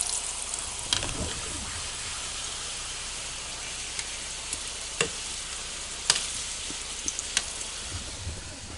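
A taco fries in a pan with a steady, hissing sizzle throughout, punctuated by occasional sharp crackles and pops, close and continuous with no talking.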